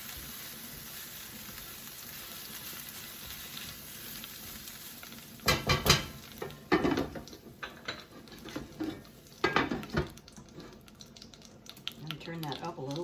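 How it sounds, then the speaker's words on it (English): Sauce is stirred in a pan on the stove while butter melts, giving a steady low sizzle with several bursts of scraping and clatter in the second half. "I'm going to take a moment to kind of stir it while I'm waiting for that butter to melt"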